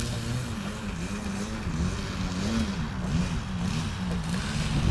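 A radio-controlled model airplane taxis on the ground, its small propeller engine buzzing close by with a wavering, pulsing throttle that rises and falls in rhythm throughout.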